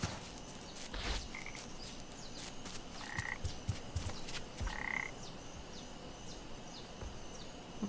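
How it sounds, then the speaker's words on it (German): Frogs croaking in the video game Papo & Yo, a few short, faint croaks spaced over a soft, steady ambient background. "Da oben sind Frösche,"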